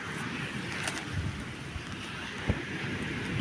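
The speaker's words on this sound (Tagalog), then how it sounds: "Sobra namang hangin to." Strong wind blowing steadily outdoors, a continuous rushing roar with a few brief gusts and knocks against the microphone, no voices.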